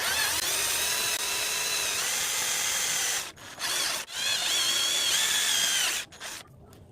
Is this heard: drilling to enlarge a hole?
yes